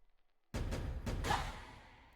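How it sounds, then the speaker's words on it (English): Two taiko drums are layered in a beat, giving a few deep, booming hits up close with a broad, washy decay, heard alone. "And then we move on to this little taiko drum set"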